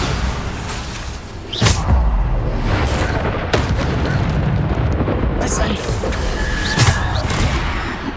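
Bombarda spell blasts go off in Hogwarts Legacy, loud booming explosions bursting repeatedly over dense combat noise, while a voice keeps shouting spell names throughout.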